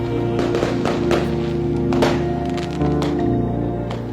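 Fireworks and firecrackers during a New Year celebration in a city, several sharp bangs and thumps scattered over a rumbling backdrop, loud and close.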